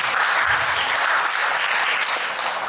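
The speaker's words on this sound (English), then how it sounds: "I think a lot of applause for everybody who is here" Audience at an HR conclave applauds in a steady, dense wash of clapping that holds at an even level from start to finish, close and full with no voices standing out.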